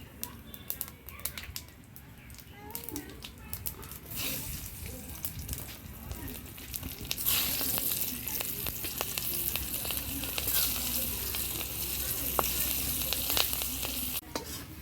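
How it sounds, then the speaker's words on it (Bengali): Cumin seeds and torn green chilies sizzling in hot oil in a pan, a steady crackling fry with scattered pops and stirring scrapes that grows louder partway through, with no talk. "ফোরনে জিরা দিয়ে দিচ্ছি চারটা কাঁচা লঙ্কা ছিঁড়ে দেবো ফোড়নে"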